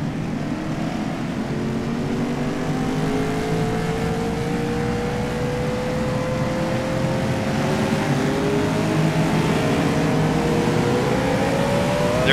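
A race car engine drones steadily at high revs during a heat race, its pitch climbing and then dropping as it shifts gears, loud and continuous with no voices.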